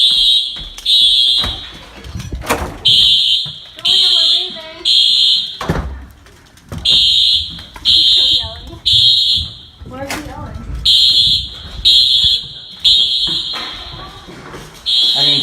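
A college dormitory fire alarm blares in loud, repeated shrill tone bursts with brief gaps, while people talk and move nearby under it.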